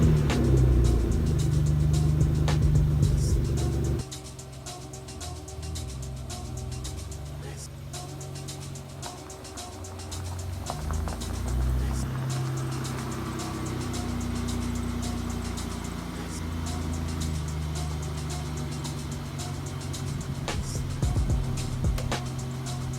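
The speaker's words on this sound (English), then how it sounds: "So I'm gonna pull out the car" BMW E30 fitted with E36 Vader seats, its engine rumbling steadily as the car is pulled out, loud at first and then a lower continuous drone with some variation in level, no talk over it.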